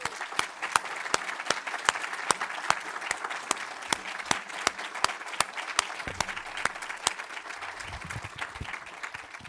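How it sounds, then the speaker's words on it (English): An audience at a conversation event with the USAID Administrator applauds Nancy in a steady, sustained round. A hissing wash of clapping is punctuated by sharp, regular individual claps standing out close by. "we're going to start with giving a shout out and some applause to Nancy"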